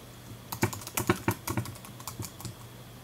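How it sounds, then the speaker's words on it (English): A computer keyboard being typed on up close, with an irregular run of quick key clicks clustering in bursts, then thinning out near the end, no speech. "now you should be able to type what you want to put in there"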